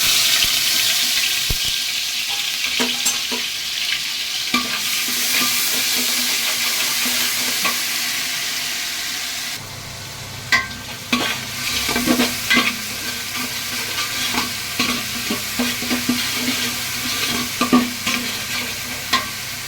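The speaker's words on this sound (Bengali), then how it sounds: "এবার আমি এর মধ্যে পেঁয়াজ বাটা দিয়ে দেবো।" Onion paste frying in hot oil in a cooking pot for mutton biryani, a steady loud sizzle with repeated scraping stirs and clinks throughout, the hiss dropping and roughening partway through.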